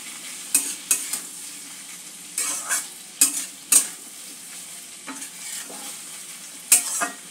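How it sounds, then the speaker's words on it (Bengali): Papaya curry with poppy seeds and chilli powder is sautéed in a pan, giving sharp intermittent spatula scrapes and clinks over a quiet, continuous sizzle. "মশলাগুলো দিয়ে একটু কিছুক্ষণ কষিয়ে নেব তরকারিটা"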